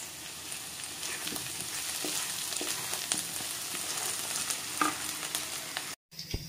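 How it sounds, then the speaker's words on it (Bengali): Onion, ginger, garlic, green chili and potato fry together in a pan, making a steady close sizzle with occasional stirring scrapes and a brief cut near the end, with no talking. "আমি সব পেঁয়াজ আদা রসুন কাঁচা লঙ্কা সব একসাথে ভাজতে দিয়ে দিয়েছি, তার মধ্যে আলুও দিয়ে দিয়েছি, তো একসাথে ভাজা হয়ে যাবে।"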